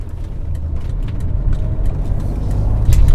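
An E28 BMW M5 drives along with a low, steady engine and road rumble heard from inside, swelling slightly toward the end.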